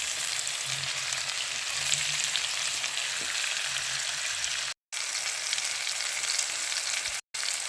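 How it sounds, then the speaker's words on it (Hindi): Spices with red chilli powder, whole chillies and turmeric fry with potatoes in a pan, giving a steady close sizzle and crackle that runs with only two brief gaps and no talking. "और अच्छे से भुनाई कर लेंगे"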